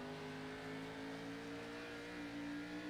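A race car engine in the Sim500 racing game holds a steady mid-pitched drone at New Hampshire, faint and continuous with a slight rise in tone near the end, and no voices.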